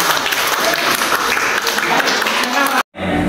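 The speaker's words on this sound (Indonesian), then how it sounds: "Tepuk dulu kita semua." A classroom audience claps together in steady, loud applause during a teaching practice session, sustained for a few seconds before cutting off abruptly.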